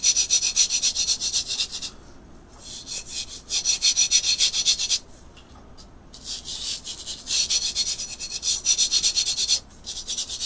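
Hand rubbing excess glitter off a tumbler, a close, steady scratchy friction in long strokes with brief pauses between passes, no talking.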